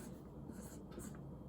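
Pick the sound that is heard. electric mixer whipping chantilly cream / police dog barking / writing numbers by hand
writing numbers by hand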